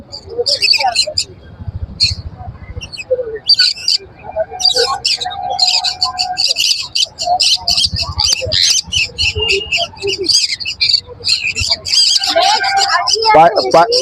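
Conure parrots, including pineapple conures, at a crowded bird market in Baguiati, Kolkata, give shrill, rapid squawks in bursts, loud and near, with people talking among the calls.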